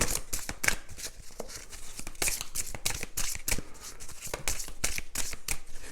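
A deck of tarot-style cards being shuffled by hand up close, a rapid run of crisp riffling flicks and slaps continuing steadily throughout.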